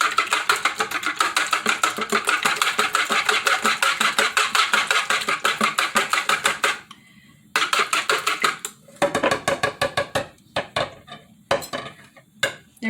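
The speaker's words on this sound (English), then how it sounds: "Whisk them." Two eggs whisked in a bowl, a fast steady clatter of the whisk against the sides for several seconds, then breaking into uneven short bursts and pauses near the end, with no talking.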